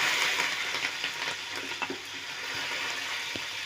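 Onions frying in a pan give a steady, close broadband sizzle with small crackles and pops scattered through it, and no voices.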